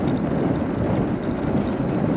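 Cold north wind blowing outdoors at Copper Breaks State Park, a steady, close rumbling roar buffeting the microphone.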